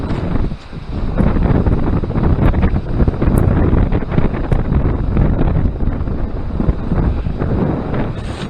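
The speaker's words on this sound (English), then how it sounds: "listen to that wind" Strong wind roars outdoors in a steady, loud, broadband rush that buffets the microphone throughout, with no voices.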